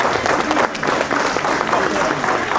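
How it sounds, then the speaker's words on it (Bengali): An audience claps for the candle lighting that opens a cultural program, a dense, steady burst of applause with voices mixed in throughout. "সবাই একটু জোরে হাততালি হোক।"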